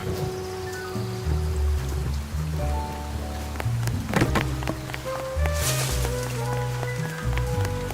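Steady rain patters on a surface, with drips and splashes over a low background rumble and some tonal hum.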